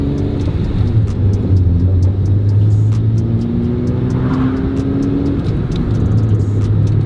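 Car engine with homemade polyurethane motor mounts, heard from inside while driving: a steady low rumble whose pitch climbs through the revs, drops at each gear change and climbs again. Loud and continuous, with no talk.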